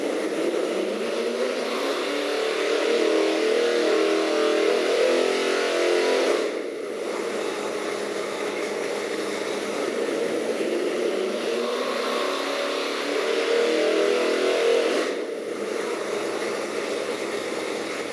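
Ford 408W small block stroker engine fitted with dual quad carburetors, revving up through its power band in two long surges, each swelling loud then easing back toward a steady idle, heard close with no talk.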